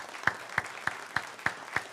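A church audience claps for summer students in an even, unhurried rhythm, six distinct claps at a steady beat, fairly faint and slightly distant in the room.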